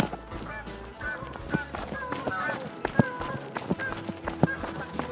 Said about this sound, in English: Geese flying overhead.